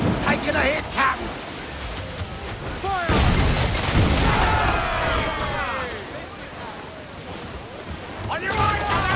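A sailing ship in Assassin's Creed Black Flag takes cannon fire at sea: heavy booming impacts and a rumbling barrage roll over ocean noise, with crew voices shouting through it.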